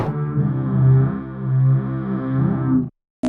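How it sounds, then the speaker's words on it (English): A distorted mystery monster sound from the My Singing Monsters game plays as a buzzy, warbling tonal phrase with wavering pitch for about three seconds, then cuts off sharply, followed by a brief burst. "challenge may play a distorted sound that doesn't sound like any other monster"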